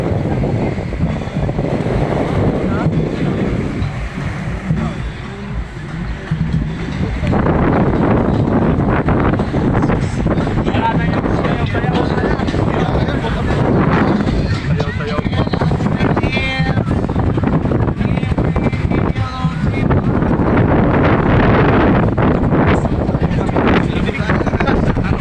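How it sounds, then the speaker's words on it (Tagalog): Strong amihan wind buffets the microphone outdoors near water, a loud, continuous low rumble and gusting roar running throughout, with people talking faintly over it. "Lakas ng hangin, amihan."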